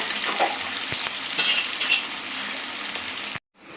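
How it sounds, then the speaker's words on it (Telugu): Onions fry in hot oil for a Hyderabadi-style chicken curry, giving a steady close sizzle with a few scraping stirs and light utensil clinks, then a sudden cut to near silence at the end. "ఇప్పుడు ఆనియన్స్ వేసాం కదా, ఆనియన్స్ బాగా గోల్డ్ కలర్, బ్రౌన్ కలర్ వచ్చేదాకా బాగా ఆయిల్లో వేపుకోవాలా"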